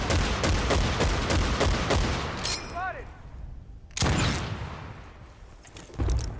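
Battlefield 1943 video game gunfire: a loud rapid burst of shots for the first couple of seconds, a lull, then more bursts of fire around four and six seconds.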